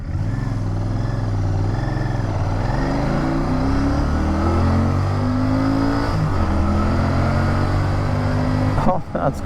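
Royal Enfield Bear 650 scrambler motorcycle engine revving and accelerating on the road, pitch rising and stepping through gear changes, loud and close with steady wind rush underneath.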